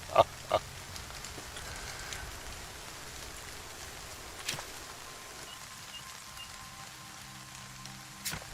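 Steady, faint rain falls in the video game Nightingale, a soft continuous patter with a few sharper drops and thuds over it.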